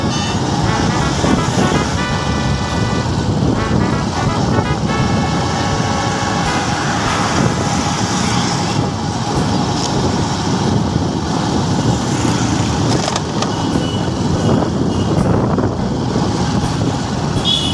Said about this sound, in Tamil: வண்டி வருதுன்னு பாரு